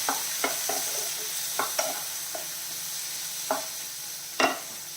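Tomatoes sauté in a hot pan for a chutney, a steady crackling sizzle punctuated by repeated spatula scrapes and taps against the pan at irregular intervals.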